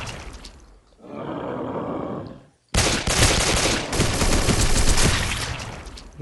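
Rapid bursts of gunfire from a weapon in the video game SAS 3: loud, dense fusillades, a short volley, a brief gap, then a longer sustained stretch of fire.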